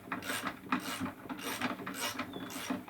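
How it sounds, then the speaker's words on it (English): The ratchet rise-and-fall mechanism of a Makita router table is cranked for micro adjustment, giving a close series of clicking, grinding ratchet turns in uneven bursts, with no talk. "Simple ratchet system through the top gives us micro adjustment. So I'll just demonstrate that now."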